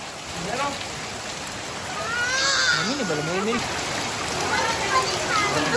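Heavy rain pours steadily in Mansehra, a constant hiss of falling water and splashing with runoff, while people talk close by over the downpour.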